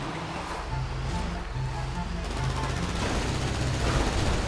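Video game gunfire aimed at a trailer, a loud continuous stream of rapid shots over a roaring, surf-like background wash, with talking mixed in.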